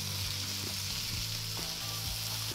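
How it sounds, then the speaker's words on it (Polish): Chopped vegetables frying in a pan with two spoonfuls of tomato paste, a steady, loud, continuous sizzle with faint stirring scrapes and no voices. "Do warzyw wrzucam 2 łyżki koncentratu pomidorowego. I również delikatnie podsmażam."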